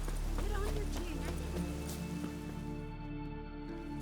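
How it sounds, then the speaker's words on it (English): Steady rain falls in the Witcher 3 video game, a dense even hiss under a low droning score, with a brief voice early on. "It's raining."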